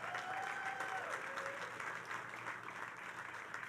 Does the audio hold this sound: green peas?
no